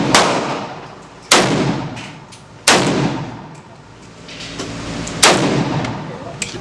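Gunshots at an outdoor shooting range, four loud sharp reports spaced roughly every one to two and a half seconds, each with a ringing decay and echo over a steady background hum.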